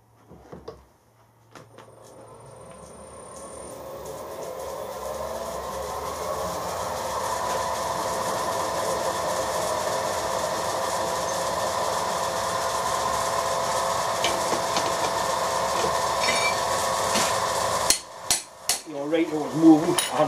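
Centre drilling brass on a milling machine: the machine motor spins up and holds a steady whirring drone for most of the clip, ending with brief clunks and scraping as the drill cuts.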